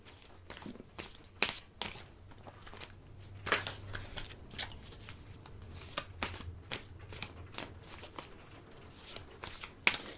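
Playing cards are shuffled for a tarot-style reading, giving close, rapid riffling and flicking bursts in a repeated irregular rhythm over about ten seconds, with no talk.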